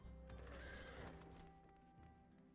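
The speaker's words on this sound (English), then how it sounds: "the Ramu horse that just kind of flew up next to us and then flew away as the person dismounted" A horse mount in a video game neighs loudly in a single drawn-out whinny, joined by faint hoof clops, then trails off quietly.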